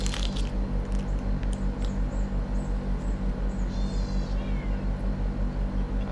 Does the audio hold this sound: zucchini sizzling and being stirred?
no